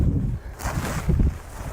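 Wind gusts outdoors, buffeting the microphone with low rumbling bursts and rustling over a few seconds, loud and close.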